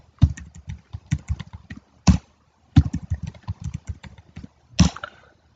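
Password being typed on a computer keyboard, with bursts of quick, close key clicks in two runs and a couple of heavier strokes, like the space or enter key, standing out between them.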